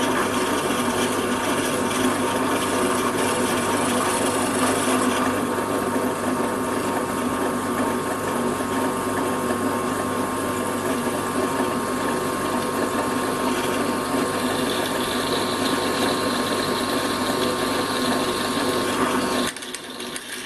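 A cheap HSS drill bit from Banggood, freshly dressed, grinds into a hard steel circular saw blade with a steady, continuous mechanical whine and rasp that shifts pitch midway and cuts off abruptly near the end.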